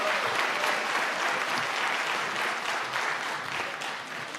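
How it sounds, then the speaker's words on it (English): A gala audience gives a steady, full round of applause for a group of young ladies, with thick, continuous clapping filling the room throughout. "let's give those young ladies another round of applause"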